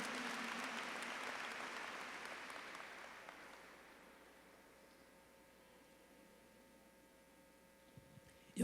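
A church congregation applauds during a Catholic service, a soft steady patter of clapping that gradually fades into quiet room hum, followed by a brief knock at the end.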